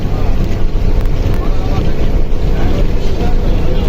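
Boat engine running with a loud, steady low rumble, mixed with strong wind buffeting the microphone, on a river near Rajshahi.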